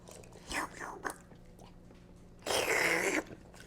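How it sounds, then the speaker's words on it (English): Close, wet slurping and sucking noises in short bursts as people eat hot chicken pot pie soup, ending in one longer, louder slurp, with a quiet room behind. "Y'all all slurping and stuff."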